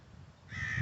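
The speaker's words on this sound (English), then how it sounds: "I hear a lot of crows." Crows caw on a windy day outdoors, a single harsh caw rising suddenly out of quiet background noise and sounding fairly close.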